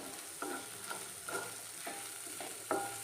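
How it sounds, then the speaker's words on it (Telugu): Chickpea masala curry fries quietly in a pan with a soft sizzle, broken by about six clacking stirs of a spoon at an uneven pace. "ఇలా ఫ్రై చేసుకోవాలి."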